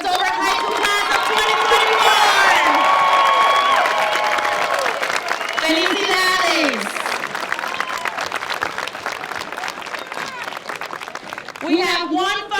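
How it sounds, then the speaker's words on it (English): Applause and crowd cheering fill a Dover High School graduation ceremony, a steady broad roar of clapping that runs throughout while an announcer talks over it on the public address. "Let's have another round of applause for the Dover High School class of"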